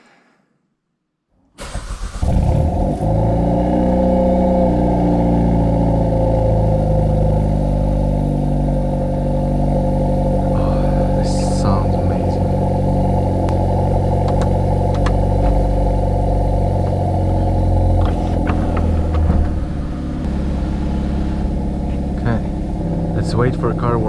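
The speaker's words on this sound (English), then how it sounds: "And the exhaust sound. Let's put it into N mode or in custom." Hyundai Veloster N with manual transmission starts up and its exhaust settles into a loud, steady idle with a deep burble, heard close and sustained with small throttle changes, while someone talks briefly.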